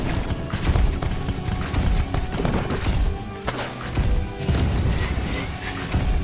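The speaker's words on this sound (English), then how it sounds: "Boom! Annihilated him with the shoulder cannon." Heavy blasts from a shoulder-mounted cannon in the steampunk action tower-defense game Castle of Alchemists, loud and dense amid a constant clatter of gunfire and mechanical crashes that keeps going without a break.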